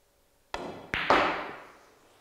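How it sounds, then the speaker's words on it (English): A pool cue strikes the cue ball for a stun shot in eight ball: a crisp close tap followed by two quick knocks as the balls collide, the last one ringing out and fading. "Now that was that stun shot."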